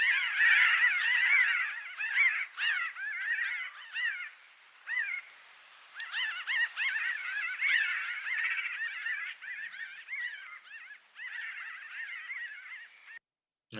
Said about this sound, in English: The classic, unmistakable laughing chatter of the flock of pinyon jays passing over.